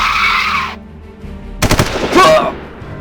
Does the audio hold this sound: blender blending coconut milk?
no